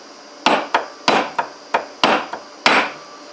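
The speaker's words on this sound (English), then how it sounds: "let's give this thing a swat with a hammer a little bit" A hammer taps repeatedly on an aluminum part of a Scag Tiger Cat mower, about eight sharp, close knocks in an uneven rhythm, each followed by a brief ring, with no one talking.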